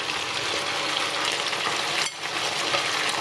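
Pork belly coated with cornstarch frying in hot oil over medium-high heat, giving a loud, continuous crackling sizzle close up with no voices.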